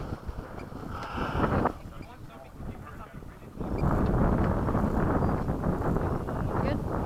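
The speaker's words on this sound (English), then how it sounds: "Because there's wind, it'll make you do weird stuff." Wind buffets an outdoor RC jet flying field as a loud, steady low roar against the microphone, easing for a moment and then swelling again. Voices can be heard talking faintly beneath it.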